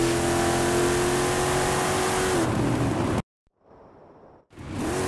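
R.J. Anderson Pro 2 truck in a racing video game, its engine revving loud and steady before the pitch dips and the sound cuts out, then a quieter hum and a return of the engine.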